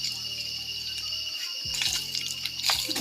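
Water scooped from a bucket and splashed out to fill farm fields, with wet sloshes and trickling bursts up close over a steady background hum.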